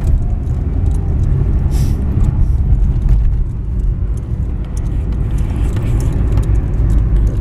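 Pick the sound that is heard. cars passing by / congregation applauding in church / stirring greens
cars passing by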